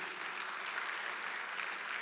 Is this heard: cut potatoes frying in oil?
no